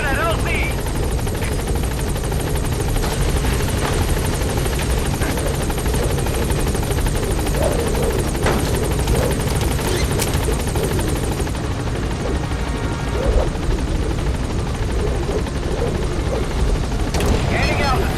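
The helicopter Pequod flies in Metal Gear Solid V, its rotor making a continuous loud, pulsing thrum throughout while radio-style voices speak over it.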